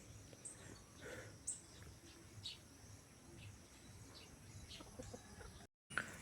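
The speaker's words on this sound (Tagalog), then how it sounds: "pagkainin muna natin yung alaga nating manok doon sa sa kulungan nila" Chickens cluck in short scattered calls over a steady hum of insects and outdoor ambience, moderately distant.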